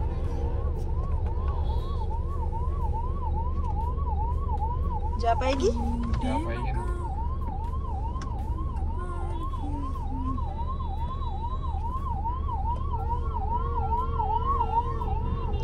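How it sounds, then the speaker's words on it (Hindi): An ambulance siren wails steadily on a road in Daman, its rising and falling tone continuous and loud over traffic rumble, while a person speaks briefly. "एम्बुलेंस को जाने दो"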